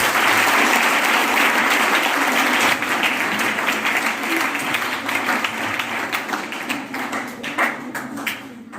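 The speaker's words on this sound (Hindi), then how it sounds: "एक बार शाहरुख के लिए जोरदार तालियां" Loud audience applause for a student speaker at an event, dense crowd clapping that starts full and strong, then gradually thins and softens, with scattered individual claps standing out near the end.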